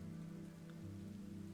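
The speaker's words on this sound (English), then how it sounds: "Oh, it's raining." Steady rain falls in the blocky survival game TerraFirmaCraft, a continuous soft patter on the ground that stays even and unbroken throughout, with no voices over it.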